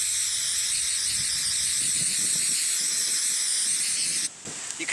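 Steady loud hiss of a sprayer laying liquid rubber coating onto fabric for a homemade gum blanket ground sheet, continuous and close, cutting off abruptly near the end.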